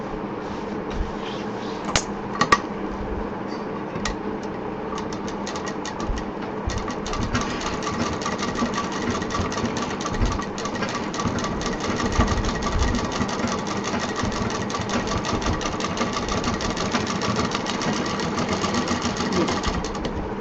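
A sewing machine runs in a steady, continuous close whir as it stitches a frill onto a handmade purse, with a few sharp knocks near the start and no talk.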